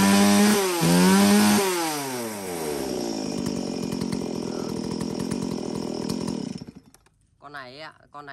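A Japanese-import chainsaw from a used lot that includes Stihl, Husqvarna, Echo Kioritz and Maruyama models, revving loudly up and then holding a steady rasping idle, close by, before cutting off abruptly with brief speech at the end.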